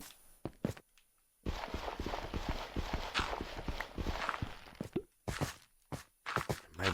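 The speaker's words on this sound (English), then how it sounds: "Hello, Milo, the horse" Horse hooves clip-clopping in the Minecraft video game, a run of quick, steady hoofbeats through the middle of the clip with a few isolated thuds before and after, fairly close and moderately loud.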